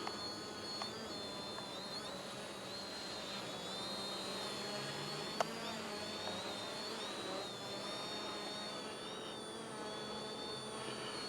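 WeFone WF30 GPS beginner drone lifting off from the ground and hovering, a steady, fairly quiet high-pitched whine of small propellers with slight pitch wavering, no speech over it.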